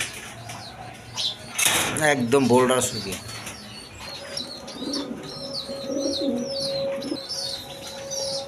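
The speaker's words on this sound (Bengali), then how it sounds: "দর্শকবৃন্দ এখানে সিঙ্গেল 2টা নর কবুতর আছে।" Pigeons in a loft coo and chirp nearby, with a burst of wing flapping, while someone talks over them.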